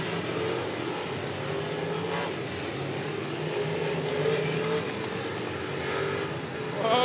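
Race cars roar around an outlaw figure 8 track at Indianapolis Speedrome, a steady, loud engine drone with rising and falling revs throughout and no break in the noise.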